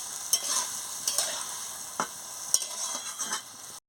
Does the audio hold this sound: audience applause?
no